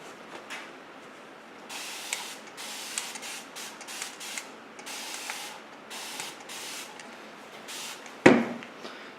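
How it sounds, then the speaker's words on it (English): A series of short hissing mist bursts from a spray bottle rehydrating transfer paper on a clay sculpture, repeated in quick irregular pumps, followed by a louder knock near the end. "Now I'm going to go ahead and spray the front side."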